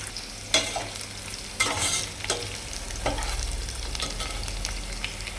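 Lentils frying in oil for a raw plantain stir-fry, a steady sizzle punctuated by several loud stirring scrapes at irregular intervals, close by with a low background hum and no talk.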